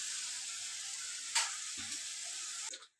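Masala spices frying in a pan, a steady bright sizzle with a couple of stirring scrapes and knocks, cutting off abruptly at the end.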